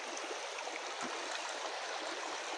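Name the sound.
forest stream flowing near Gunjana waterfall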